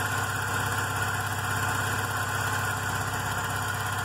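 A Volkswagen Golf Mk3 engine idles steadily at close range with its idle air actuator working, a constant mechanical hum with a faint airy hiss and steady tones running throughout.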